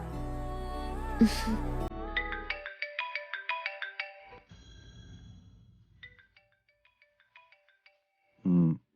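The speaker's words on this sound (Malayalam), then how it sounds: "ഞാൻ ഈ ഫോൺ അറ്റൻഡ് ചെയ്തിട്ട് വരാം." A phone ringtone plays a bright, repeating melodic chime pattern that follows a louder musical passage, then fades and ends with a short heavy thump.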